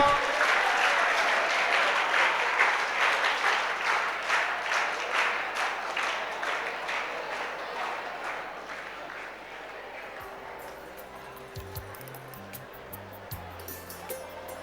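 Loud audience applause at a school ceremony honoring Gujarat board toppers at Shree Aastha School, Jasdan; dense clapping rolls steadily for about ten seconds, then thins and fades to scattered claps.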